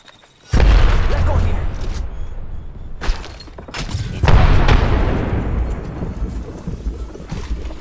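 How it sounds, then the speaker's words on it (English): A grenade goes off in Apex Legends with a deep, loud boom that rolls into a long rumbling decay, followed by a second heavy blast, with player chatter mixed in. "Grenade!"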